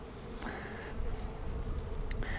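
A dense, steady buzzing of many honeybees flying close by, continuous and fairly loud, with no voices.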